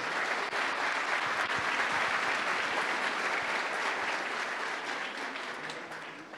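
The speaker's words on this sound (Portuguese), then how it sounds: "Aplauda comigo a santa palavra de Deus." A church congregation at a Pentecost assembly applauds together, a dense, sustained burst of clapping that fills the room and tapers slightly toward the end.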